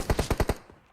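A quick burst of five rapid gunshots from an automatic weapon in PUBG Mobile, sharp and evenly spaced, then a fading echo.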